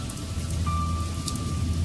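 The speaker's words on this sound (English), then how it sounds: "It begins to rain as you're walking through the woods." Steady rain falls through woodland, a dense continuous patter on leaves and ground with a low rumbling undertone, heard alone at an even, moderate level.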